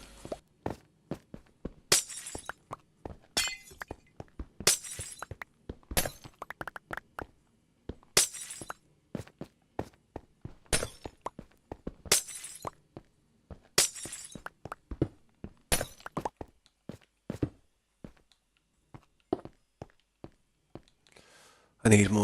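Glass blocks being broken in Minecraft produce a rapid series of sharp shattering crashes with irregular spacing across a survival build, while players chat over the steady run of breaks.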